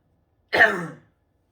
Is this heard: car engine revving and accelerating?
no